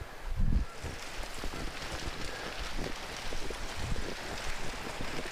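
River water at Riverway Campground in William O'Brien State Park along the St. Croix flows steadily, a soft broadband rush with occasional low thumps from wind or handling, faint and continuous outdoors.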